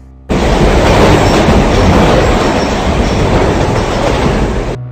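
Passenger train in a 2021 horror film running steadily with a loud, continuous rumble and rattle of railcars and wheels on track, heard close and alone for several seconds.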